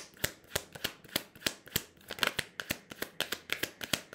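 Tarot cards shuffled by hand for a reading, a close, steady run of crisp flicking snaps in quick rhythm, with no voice.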